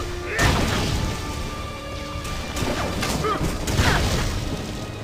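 Explosions from combat in the action RPG Torchlight 2 land as several crashing booms and thuds spread across a busy battle, with talk over the fighting.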